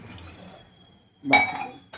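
Water from a glass poured into a cooking pot of peanuts set to boil, a short loud splash and gush after a quiet stretch of faint kitchen background.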